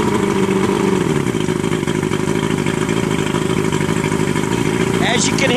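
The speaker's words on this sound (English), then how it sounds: "As you can hear, the engine's cutting out." Evinrude 140 HP outboard boat engine running loudly and unevenly with a rough, pulsing tone, as if cutting out, and a voice speaking over it.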